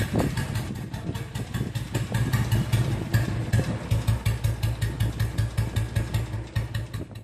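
A Royal Enfield single-cylinder Bullet motorcycle idles with its slow, loping thump, a loud, close, evenly spaced beat of exhaust pulses and mechanical clatter that keeps steady throughout, with no speech over it.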